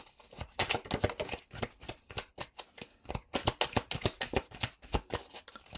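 Oracle cards are shuffled by hand in a rapid, steady run of crisp riffling slaps and flutters. The sound is close and continuous, with no talking.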